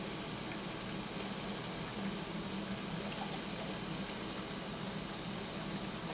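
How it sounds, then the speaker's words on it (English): Cold water poured steadily over wax for a Mount St. Helens science model, heard as a continuous, faint rushing splash with no talk. "Now I'm going to take the cold water I have here and pour it over that."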